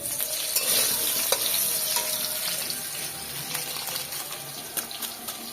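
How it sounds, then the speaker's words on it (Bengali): Packet milk pouring into a pot for payesh in a home kitchen, a steady close liquid rush and splash that runs throughout, with faint clinks and no talking. "প্যাকেটের দুধ দিয়ে দিচ্ছি"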